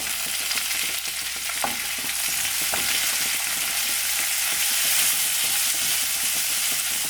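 A loud, close, continuous sizzle comes from ripe tomatoes sautéing in a pan for an egg curry. Now and then a stirring scrape breaks through the dense hiss. No voices are heard.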